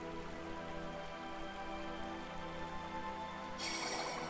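Steady rain in the Nintendo 3DS game Radiant Historia, a constant even hiss that brightens near the end, with no talking.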